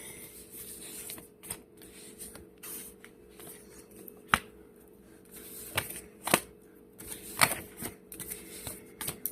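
A deck of tarot cards is riffled and flicked through by hand at close range, giving a steady papery shuffling with sharp snaps and slaps as individual cards are pulled, and no talking.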